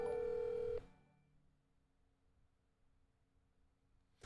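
A phone call ringing out while waiting for someone to pick up: a single clear ring tone plays for under a second, then cuts off into quiet room noise with a soft click at the end.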